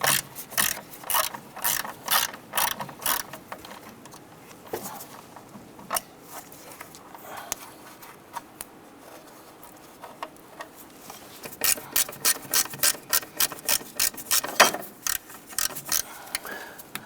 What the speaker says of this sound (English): Using our 8mm socket, we're going to go ahead and loosen the two screws holding this bracket to the firewall.